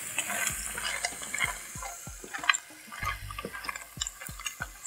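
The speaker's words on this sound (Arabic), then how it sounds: "وهكمل تقليب." A spoon stirs a flour-thickened cream sauce for seafood pasta in a pan, making soft, quiet scrapes and wet taps in an irregular rhythm over a faint sizzle.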